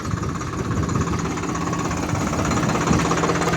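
A steady, rumbling tractor engine runs continuously in a chickpea field with a knocking, vibrating texture, loud and close throughout with no pauses.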